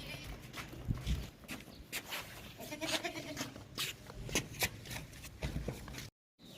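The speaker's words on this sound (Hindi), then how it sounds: "कुर्बानी वाला बकरा है, साफ सुथरा माशाल्लाह" A clean sacrificial goat offered for sale bleats a few times, close by, among shuffling movement and footsteps, with a faint harmonic cry near the middle.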